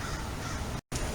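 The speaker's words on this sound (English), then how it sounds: "While I'm out, I'm hearing a bunch of crows squawking." Crows caw outdoors in the rain, a short burst of harsh calls over a steady wet background hiss, briefly cut by a moment of silence.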